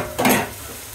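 Ginger, garlic and cumin paste hits a hot pan and sizzles in one brief burst, with a stirring scrape, before settling into a softer steady frying hiss. No voices are present.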